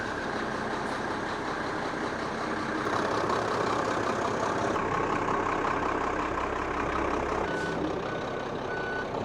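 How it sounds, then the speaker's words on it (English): A fire truck engine idles steadily with a low rumble, while a faint repeating beep sounds intermittently in the background. "Now then there's a fire truck, Sean."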